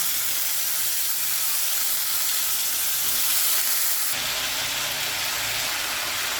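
Potatoes frying with bitter gourd in a wok, seasoned with turmeric and salt, give a steady, loud hissing sizzle that holds for several seconds, then shifts to a slightly different tone near the end, with no voices.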